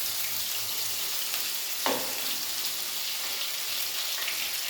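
Onion, ginger, garlic, tomato and chili paste fry in a wok for a chicken and potato curry, giving a steady, close, bright sizzle throughout with one brief clatter partway in.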